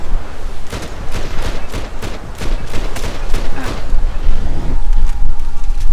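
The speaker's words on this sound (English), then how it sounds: "Oh, that's a shotgun." Repeated shotgun blasts in Max Payne 3, a run of loud, evenly spaced booms over about six seconds with a constant roaring background bed.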